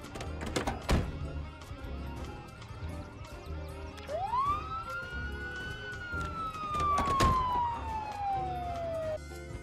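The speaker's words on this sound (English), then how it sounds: "This police car should have enough alarms on it." In the video game Project Zomboid, a police car siren wails in a long rising then slowly falling sweep over busy game noise with sharp thunks, fairly close and prominent, with no voices.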